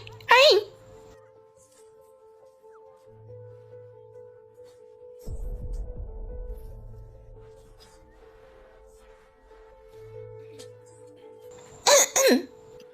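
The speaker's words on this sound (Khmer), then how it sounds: "នាងក្អក" A woman coughs in short bursts, once near the start and again near the end, loud and close, with a quiet, low background and faint sounds between the coughs.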